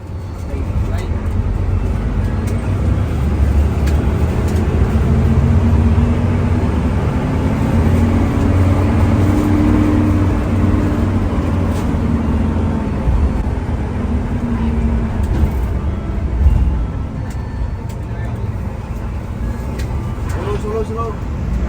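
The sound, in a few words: Sugeng Rahayu bus driving fast, heard from inside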